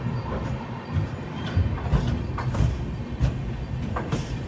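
A passenger train pulls out of Shivamogga railway station, heard from inside the coach as a low, steady rumble with faint intermittent wheel clunks and knocks.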